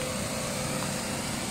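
A Lawn-Boy 20-inch push mower engine runs steadily at a close distance during the first mow of the season on a lawn in Queens, a constant loud drone with no voices.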